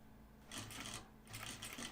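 A sewing machine back stitching through denim jeans, two bursts of rapid mechanical stitching separated by a short pause, fairly faint and with no talking.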